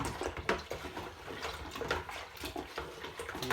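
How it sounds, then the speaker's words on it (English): Tartaric acid being stirred into runner bean wine must, a close sloshing and swirling of liquid with uneven splashes, moderately loud and continuous. "We're going to give that a little stir in."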